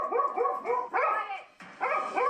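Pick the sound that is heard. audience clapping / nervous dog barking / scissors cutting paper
nervous dog barking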